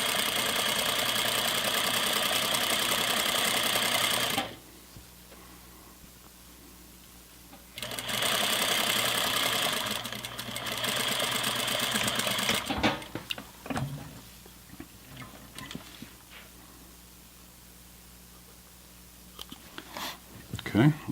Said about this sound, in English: Now we're just going to sew over those existing stitches and just keep on going.